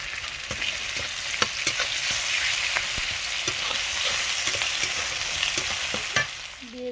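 Ginger paste, cashew paste, turmeric and cumin powder fry in oil for a vegetarian Bengali mankochu and potato curry, giving a steady close sizzle with regular scraping stirs throughout.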